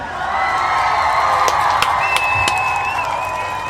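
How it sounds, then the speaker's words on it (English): Applause and cheering for the Kujichagulia babies at a festive gathering, loud clapping mixed with crowd shouts and whoops, close and continuous across the whole moment, with a high whistle-like tone partway through. "we want to give all the Kujichagulia babies a round of applause"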